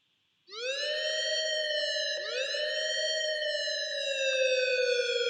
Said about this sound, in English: One other thing I put in was a siren.